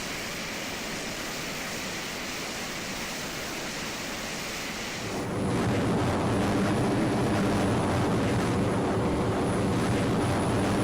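An F/A-18X Black Wasp jet flying in the ARMA 3 video game: a steady, airy engine roar that swells noticeably louder and fuller partway through, then holds at that level, with no voices.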